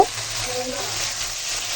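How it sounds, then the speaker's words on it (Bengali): Onion frying in hot oil, a loud continuous sizzle with a brief knock at the start and steady crackling throughout. "এখানে তেলের মধ্যে আমি পেঁয়াজটা দিয়ে দিছি পেঁয়াজটা একটু ভালো করে ভাজা ভাজা করে নেব"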